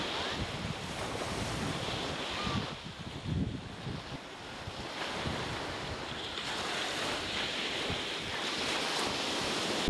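Sea waves breaking on the long beach at Quỳnh Lập, a steady broadband wash with swells rising and easing, mixed with wind buffeting the microphone and no voices.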